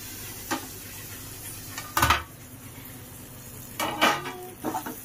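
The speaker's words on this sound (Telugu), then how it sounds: "ఆనియన్స్ అయితే ఇలా వేగాయి. ఇంకొంచెం వేగాలి." Onions sizzling in a pan for a crab curry, with a soft continuous fry and several distinct scrapes and clatters of a spoon stirring against the pan, close and moderately loud, no talking.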